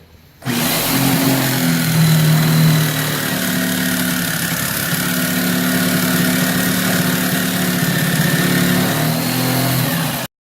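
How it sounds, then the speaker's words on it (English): A jigsaw cuts through a butcher block countertop, starting abruptly and then buzzing loudly and steadily for around ten seconds before stopping, with no voices. "this jigsaw wasn't cutting it was just too slow"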